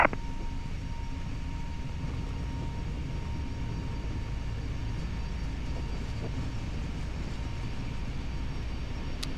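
Jet engines of an airliner on its takeoff roll, a steady broadband roar heard from inside the cockpit that stays constant throughout.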